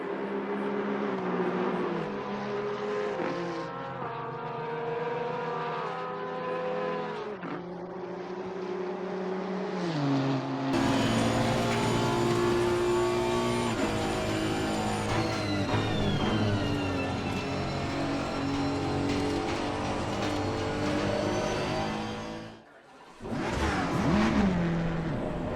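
An Aston Martin race car at a sim racing endurance start, its engine droning and shifting pitch steadily, loud and continuous, with a brief drop near the end before the engine note returns.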